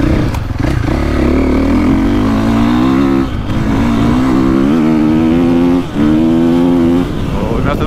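A 2025 Honda CRF450R or 2024.5 KTM 450SXF Factory Edition motocross bike revs hard on a slick GP track, its engine rising and falling in loud close bursts, with a rider talking over it.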